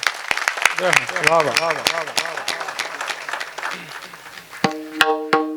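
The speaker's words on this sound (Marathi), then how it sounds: "जरा टाळ्या वाजवा" Rapid, dense clapping from a crowd at a kirtan dominates, with a voice over it. The clapping thins near the end, then a singing or sustained tone comes in.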